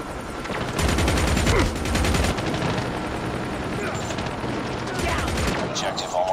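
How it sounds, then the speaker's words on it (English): An enemy sentry gun in the Call of Duty Mobile video game fires loud, rapid automatic bursts in two main volleys, over a constant, dense background of battle noise. "Enemy contact! Enemy sentry gun deployed."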